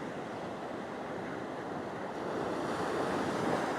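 Ocean surf washes steadily onto a fishing beach, a continuous broad roar that swells slightly louder toward the end, with gusty wind buffeting the microphone and no voices.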